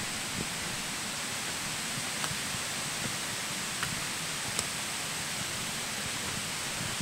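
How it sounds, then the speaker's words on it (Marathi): Rain-swollen water pouring over a rocky cliff in a forest, a constant dense roar that stays even and unbroken throughout, with a few faint ticks on top and no talking. "आवाज येतो पाण्याचा. इथे एक कडा आहे."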